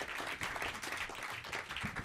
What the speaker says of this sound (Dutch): Jouw groot applaus.